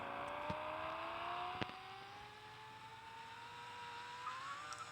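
A car engine revs steadily higher, its pitch climbing smoothly for several seconds as the throttle is pressed, with a couple of sharp knocks partway through; no one speaks.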